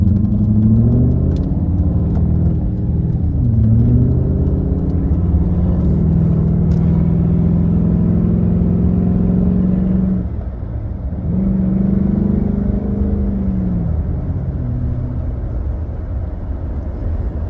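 Holden 5L V8 idling after a distributor change, a steady low rumble with a faint uneven stumble from a slight misfire, one brief dip in the middle, heard close and continuous with no talking.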